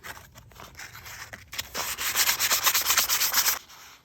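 A cloth rubs rust and old grease off the fork stays of a Honda Fat Cat 40 motorcycle, making close, steady scrubbing strokes that build to a rapid back-and-forth rhythm before stopping.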